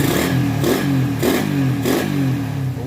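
A motorcycle engine, rebuilt and fitted with a 28mm Keihin carburetor, is revved up close in four rhythmic throttle blips that rise and fall over a steady idle.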